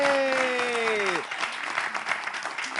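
A crowd claps in a steady burst of applause after a sustained tone fades, the clapping continuing evenly at moderate volume, at a morning show.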